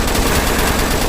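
Minigun fire in the Roblox game Zombie Arena, a loud, dense continuous rattle of rapid shots filling the whole moment without a break and with no talking over it.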